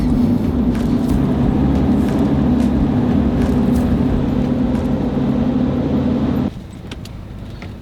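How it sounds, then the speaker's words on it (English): Rush hour road traffic heard from inside a moving van, a loud continuous engine and road rumble that drops suddenly to a quieter hum near the end. "We've hit rush hour traffic."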